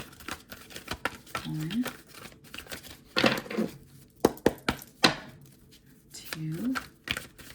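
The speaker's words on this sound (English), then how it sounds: "I'm gonna shuffle 3 times." A deck of oracle cards is shuffled by hand in a few quick bursts of riffling, flicking and crinkling card noise, soft and close, between short stretches of talking.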